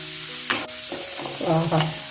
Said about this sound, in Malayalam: കറിവേപ്പില, വെളുത്തുള്ളി ചെറുതായി അരിഞ്ഞത് ഇട്ട് വെക്കുക. നന്നായി മൂപ്പിക്കുക.